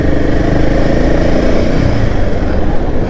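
A Royal Enfield Himalayan 450 motorcycle engine runs loud and close with a dense, steady roar, holding an even level for the whole stretch.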